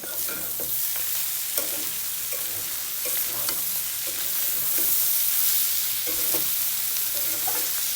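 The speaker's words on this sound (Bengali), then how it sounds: "ধনে পাতা দিয়ে বেশিক্ষণ নাড়াচাড়া করবো না অল্প কিছুক্ষণ নাড়াচাড়া করে তারপর বাটিতে বেড়ে নেব" Bitter gourd is stir-fried in a pan with coriander leaves. A loud, steady sizzle runs throughout, with a spatula scraping and stirring at intervals and no talking.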